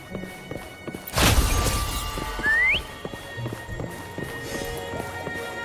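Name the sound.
whistling and mount's hooves in video game Wuthering Waves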